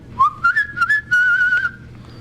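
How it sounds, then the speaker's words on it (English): A person whistles a single steady, clear tone for about a second and a half with a few brief wavers, close and alone, in a 1985 interview setting. "Can you whistle?"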